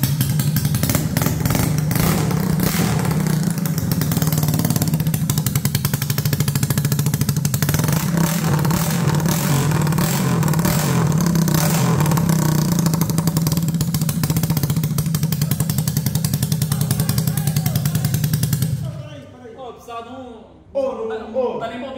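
A Honda motorcycle engine with a modified, inverted dipstick setup starts and roars loud and steady at close range for a long stretch, then cuts off, leaving people talking.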